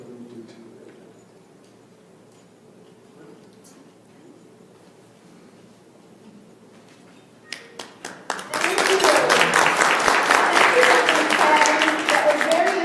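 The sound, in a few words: audience applause after a talk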